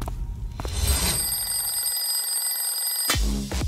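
A phone rings with a bright, steady electronic tone that starts after some scattered knocks and cuts off near the end, followed by a low thump.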